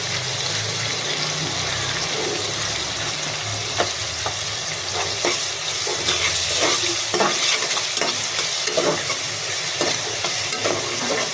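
Shrimp fry lightly in a pan with salt, giving a close, continuous sizzle with repeated stirring scrapes and clicks, and a brief murmur of speech in the background.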